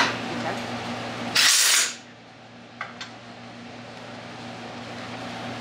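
A power tool drives bolts on a mirror mount of a 2020 Polaris RZR Pro in one brief, loud, close burst lasting about half a second. A few faint clicks follow in a quiet background.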